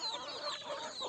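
Native village chickens on a farm clucking in short, close, overlapping calls for a brief moment, with no talking.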